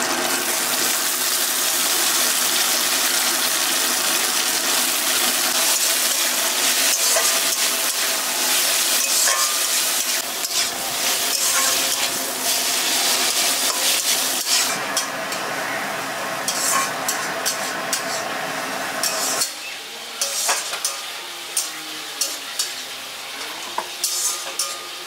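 Finely shredded cabbage fries with a steady, loud sizzle in a pan, broken by scraping stirs that grow more frequent and clatter toward the end, with no talking.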